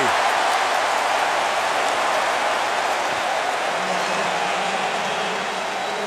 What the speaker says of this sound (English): This crowd is into the game